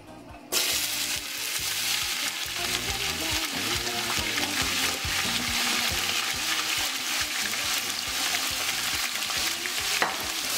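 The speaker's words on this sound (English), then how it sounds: "Warm up your oil and add your sliced celery, leeks, and onion." Sliced celery, leeks and onion land in hot oil and sizzle loudly, with a sudden onset followed by a steady frying hiss and stirring clatter throughout.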